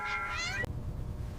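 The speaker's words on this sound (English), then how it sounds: "that screeching cat has to go" A cat in a 1950s film lets out a single drawn-out, screeching meow that rises and wavers for about half a second, then stops abruptly over a steady hiss of background noise.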